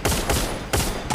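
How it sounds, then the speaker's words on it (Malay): Bursts of rapid gunfire in a Free Fire battle royale match, dense overlapping shots in three or four loud clusters, close and sharp with no voices over them. "kita lihat cuba untuk membuat tembakan di sini pasukan daripada ZE"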